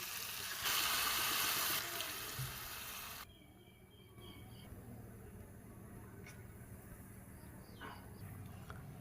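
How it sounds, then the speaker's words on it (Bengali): Water goes into a pan of jackfruit curry, a brief bright rush of pouring followed by a quieter sizzle and simmer with a few small clinks, faint and close. "এখন কষানি শেষ, এখন দিলাম পানি।"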